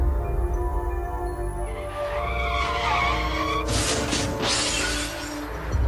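A motorbike skids and crashes on a roadside at night, a loud sustained scraping screech with crash-like bursts of noise over a low engine-like drone, close and without speech.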